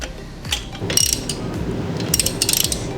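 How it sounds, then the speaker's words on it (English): Ratchet wrench tightening bolts on an IPF-approved ATX combo power rack during assembly, rapid clicking bursts with brief pauses and metallic clinks, loud and close. "So bolts, lefty-loosey, righty-tighty."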